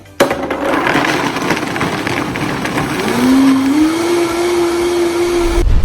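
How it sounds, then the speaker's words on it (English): A blender making almond milk runs loudly and steadily up close, its motor whine climbing in pitch partway through as it speeds up. "So the more powerful the blender, the shorter the time you have to blend."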